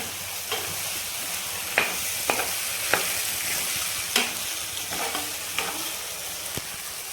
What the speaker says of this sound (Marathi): आणि छान असं तेलावर परतून घ्यायचं आहे आपल्याला